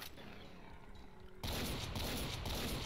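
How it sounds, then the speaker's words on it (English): Double-barreled shotgun fired in the video game Brutal Doom, a sudden loud blast partway through that stays as a dense, sustained roar after a quieter, rumbling lead-in. "The double-barreled shotgun is OP."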